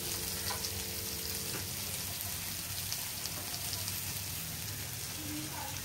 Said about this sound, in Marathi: चरचरीत आवाज येत आहे